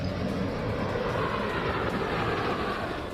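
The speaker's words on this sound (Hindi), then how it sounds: "कभी लड़ाकू विमानों की दहाड़, कभी विमानों का मंत्रमुग्ध कर देने वाला परफेक्ट फॉर्मेशन" Indian Air Force fighter jets roar over Guwahati, Assam, during an air show, a loud steady broadband engine rush that fills the whole stretch without letup.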